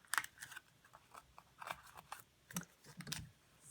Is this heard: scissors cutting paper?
yes